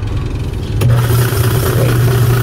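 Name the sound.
Fujidenzo washing machine motor spinning in reverse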